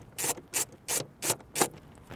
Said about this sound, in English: I'm just going to use a small flat-bladed screwdriver